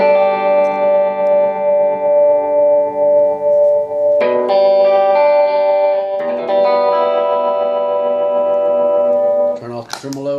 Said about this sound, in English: this is if I had tremolo.